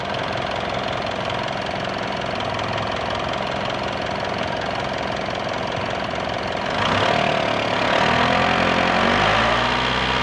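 A 2015 Mitsubishi Montero engine with a P0642 sensor reference voltage fault runs at a loud, steady idle, then revs up toward 3000 rpm and holds the higher pitch until the end.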